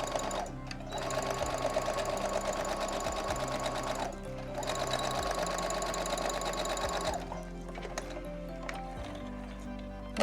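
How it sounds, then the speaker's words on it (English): A sewing machine runs in long continuous stitching bursts while sewing a fabric face mask, pausing briefly between runs, close and steady with no talking. "we're going to be sewing on the opposite side of the fabric"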